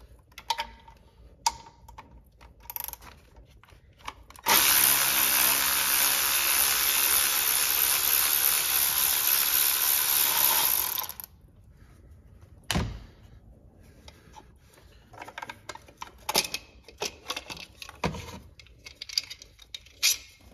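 A hand ratchet on an extension bar backs out bolts on a 2022 6.7 Powerstroke diesel. It makes scattered close clicks and ticks with short pauses, and a sustained hiss runs loud through the middle of the clip.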